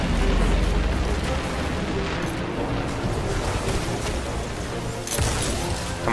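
Dense, continuous gunfire and booming shots from the video game Destiny 2, loud and sustained throughout with sharper blasts near the end.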